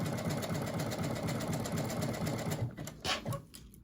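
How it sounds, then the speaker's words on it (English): A sewing machine runs a fast, even zigzag stitch on stretch fabric, its rapid needle rhythm close and loud before it slows and stops with a couple of clunks. "Still using a zigzag stitch because we are using stretch material."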